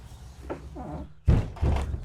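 An ice fish house entry door is unlatched and swung open, giving a couple of heavy thunks and rattles, close and fairly loud.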